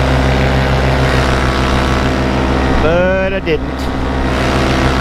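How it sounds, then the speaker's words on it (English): A paramotor engine drones steadily and loud throughout, a continuous close propeller roar that never lets up, while someone speaks briefly partway through. "Motor seems to be running pretty good today."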